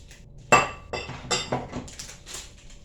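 A block of Mama instant noodles goes into a bowl with a sharp crinkling knock, followed by several lighter clinks and rattles of hard dry pieces against the dish, close and distinct in a quiet room.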